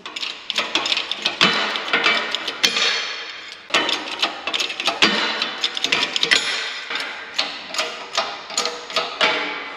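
Old wheel studs being pressed out and new longer studs installed on a Dana 60 front axle hub, heard as a close series of sharp metallic knocks and clicks in an irregular rhythm, with no talking.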